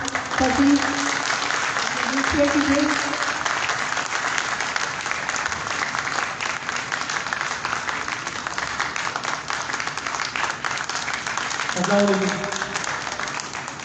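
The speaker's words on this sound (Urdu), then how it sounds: "آپ سب کی پرزور تالیوں میں" Audience applause at a real estate marketing company's fifth anniversary event, steady and sustained throughout, with a voice speaking briefly over it near the start and again toward the end.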